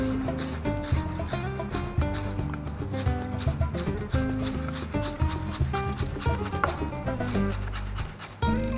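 A knife taps rapidly and evenly against a cutting board, finely chopping chives, dozens of quick close-up chops in a steady rhythm with no talking.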